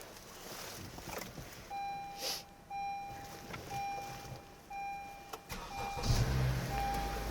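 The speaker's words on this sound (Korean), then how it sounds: "우선 시동을 먼저 걸어볼게요." Repeated soft chime beeps sound inside an imported car with 106,528 km on it, then its engine cranks and catches with a low rumble toward the end.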